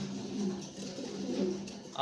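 Large racing pigeons coo nearby, soft low throaty warbles repeating through two seconds at modest volume.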